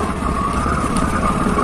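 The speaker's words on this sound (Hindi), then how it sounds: "तो गाइस आपको इस गाड़ी की आवाज़ सुनाऊँ" A vehicle engine runs steadily at close range, a continuous even hum and rumble with no voices over it.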